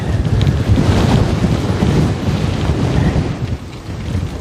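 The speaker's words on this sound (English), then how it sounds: "hilly doesn't mean I won't get any wind" Strong wind buffeting a microphone while cycling through hilly terrain, a loud continuous low roar with gusty swells, no voices present.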